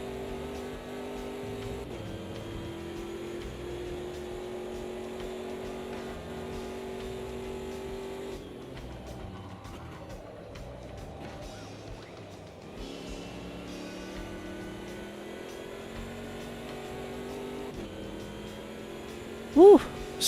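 Big V8 race car engine in the Automobilista 2 racing sim, a steady loud drone holding high revs, dipping briefly to a lower pitch mid-lap before climbing again, with a voice talking over it.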